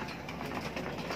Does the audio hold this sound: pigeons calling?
yes